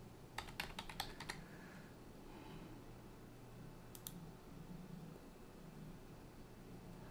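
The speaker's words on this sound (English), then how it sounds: "Let me type my password." A computer keyboard is typed on in a quick run of light clicks, followed by a short pair of keystrokes, quiet and close over faint background hiss.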